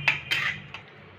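A utensil scrapes and clinks against a pan while malai laddu mixture is stirred, giving three quick, close metallic taps and scrapes that fade into quiet.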